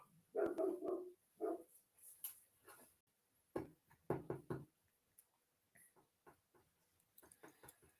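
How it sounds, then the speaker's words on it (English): A dog on a homestead barks in a few separate bursts, some at a distance, with quiet gaps between them and faint ticking sounds in the background. "That's a different dog barking now"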